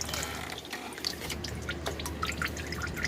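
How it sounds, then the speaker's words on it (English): Motor oil drips and trickles from a loosened oil filter on a 2005 Cadillac Escalade ESV with a 6.0L engine at 308K miles, a steady close patter of drops with no talk. "So we loosen the filter, and we're letting that drain a little bit."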